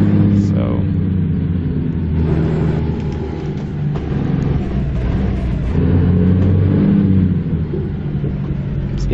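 A heavy truck engine in American Truck Simulator rumbles and revs, pitch rising and dropping as it shifts through gears, steady and fairly loud throughout.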